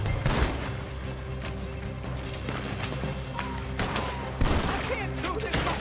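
Video game gunfire crackles in bursts of sharp shots and a heavier boom near the end, close and loud over a rumbling backdrop, with voices talking between the shots.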